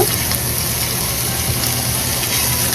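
Vegetables, egg and onions stir-frying over high heat in a wok for prawn and egg fried rice, giving a steady, dense sizzle that holds evenly from start to finish with no pauses.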